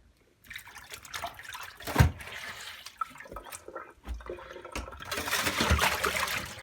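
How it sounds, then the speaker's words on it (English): Water from a Bush 721QW washing machine drains into a glass bowl, an uneven liquid splashing and trickling with a few sharper gushes, close and moderately loud, with no talk. "the water from the washing machine will go into this glass bowl first"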